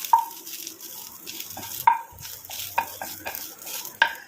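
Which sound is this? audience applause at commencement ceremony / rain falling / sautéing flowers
sautéing flowers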